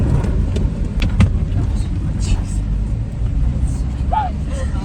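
A car engine runs as the car is driven, a steady low rumble heard close up beneath people talking.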